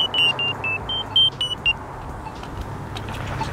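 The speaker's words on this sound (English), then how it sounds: "Play countdown signal." An accessible pedestrian countdown signal played from the OKO iPhone app sounds as a string of about eight short, sharp electronic beeps at slightly shifting pitches, evenly spaced, then stops, leaving a soft hum.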